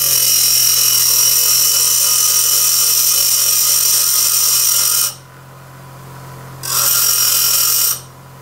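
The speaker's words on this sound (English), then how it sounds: "So what I want to do is grind down just a little bit of that so it doesn't stick through the wing." Power tool grinding down a landing gear block for a foam core model wing, a loud steady whine that runs for about five seconds, stops briefly, then returns for a short second burst.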